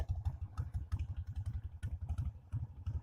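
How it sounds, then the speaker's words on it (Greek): A Harley-Davidson motorcycle engine runs steadily with a low, pulsing idle and a light mechanical clatter, close by and alone. "Εδώ και ένα πλανάκι με το μηχανάκι να τραγουδάει"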